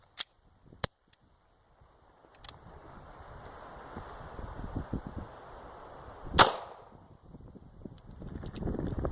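Beretta 92 pistol firing a 9mm hollow point round into ballistic gel outdoors, a single sharp loud report midway, preceded by a few small handling clicks and followed by wind rumble.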